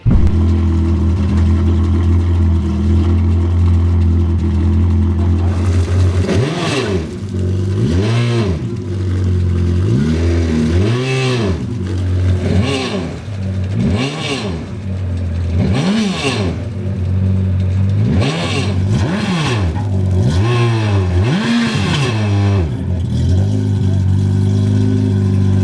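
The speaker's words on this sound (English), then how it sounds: "you're gonna love the sound. It's not too loud, but it has a nice deep exhaust note." Yamaha watercraft engine fitted with a Riva rear exhaust kit, idling then revving repeatedly in quick rising and falling bursts, with a deep, fairly loud exhaust note and close, clear engine sound.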